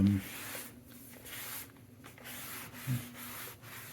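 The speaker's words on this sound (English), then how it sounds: "in fact with this cloth they seem to be rubbing off" A cloth rubs across the casing of a Sony Vaio VGN-BX393 laptop in soft, close, repeated sanding-like strokes. The strokes are quiet and come in short bursts with brief pauses between them.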